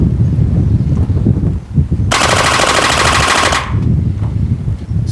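A Gelstorm gel blaster fires a rapid full-auto burst of about a second and a half, a dense buzzing stream of shots up close, set against outdoor wind noise on the microphone.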